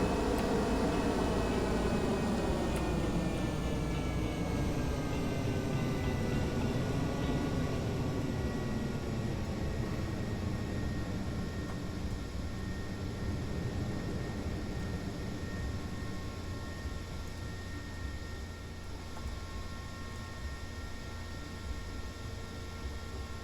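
A jet truck engine roars steadily in Kerbal Space Program while rolling a reusable rocket, a continuous loud droning whine with a slowly shifting pitch that fades slightly toward the end.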